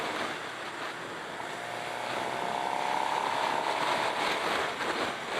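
A 2017 Suzuki GSX-R 750 engine revs up, a steady rising whine that builds and holds at moderate distance, then eases slightly, with no voices over it.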